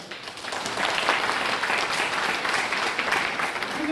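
Loud, sustained applause from an audience at an IMC RAS program in Bargarh, Odisha, rising quickly after a brief pause and holding steady throughout.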